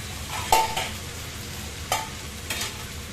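Onions fry in a pan with a low, steady sizzle, broken by three distinct scraping stir strokes at uneven intervals; no voices.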